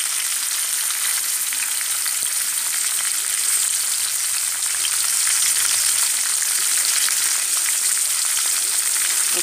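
Green chilli and ginger frying in oil for tamarind rice, a dense continuous crackling sizzle that stays loud and steady throughout, close to the pan, with no talk over it.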